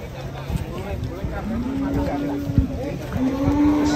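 Large cattle low several times with drawn-out, droning moos, mixed with nearby voices and general commotion of a busy livestock area as they are unloaded from a truck.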